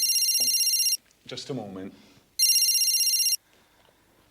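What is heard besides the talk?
telephone ringing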